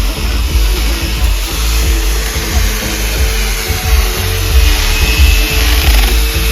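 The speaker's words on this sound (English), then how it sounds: "This guy is using like a Dremel tool or mini chainsaw." Small power tool, like a Dremel or mini chainsaw, grinding and cutting into blocks of ice outdoors at a winter resort, a steady close buzzing drone that holds for the whole stretch.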